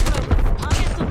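Rapid bursts of video game gunfire heard through wireless earbuds crackle in a dense, close volley lasting about a second, with no talk over it.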